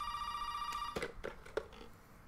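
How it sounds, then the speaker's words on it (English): A telephone rings in Resident Evil 7, a steady electronic trill that cuts off before a few short thuds and clicks, as if the handset is picked up, all fairly faint and alone. "phone's ringing"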